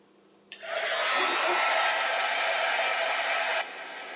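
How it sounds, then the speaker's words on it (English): A heat gun blasts steadily to dry Mod Podge coating on a craft tree, switching on abruptly with a loud, continuous airy roar that holds for about three seconds before dropping back to a low hum. "I am going to take a heat gun to it"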